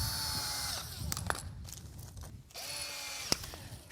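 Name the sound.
drill driving screws into a hoof cinch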